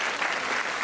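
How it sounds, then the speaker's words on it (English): Stand-up comedy audience bursting into dense, loud applause, a continuous wash of many hands clapping in a large room. "You don't have to clap."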